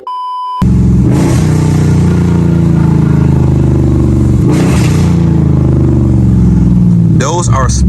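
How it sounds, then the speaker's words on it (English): A cammed SRT car engine drones loudly and close while driving, with two brief sport-mode downshift blips interrupting the steady roar and a short beep at the start. "Those are sport mode downshifts."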